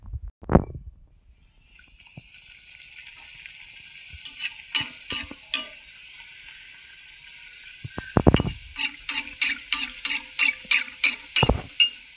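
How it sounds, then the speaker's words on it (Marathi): Bhature dough frying in hot oil with a bright crackling sizzle that swells and fades, broken by sharp clatters and a rhythmic run of taps from a utensil near the pan. "आता तळूया."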